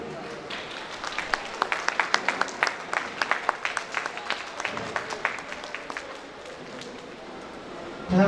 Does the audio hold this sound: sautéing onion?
no